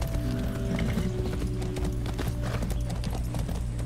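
Rapid clip-clop of a horse's hooves in the video game Far Cry 6, a continuous galloping rhythm heard close and steady over a low droning game background.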